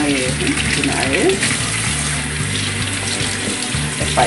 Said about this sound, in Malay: Kita bersihkan guna air.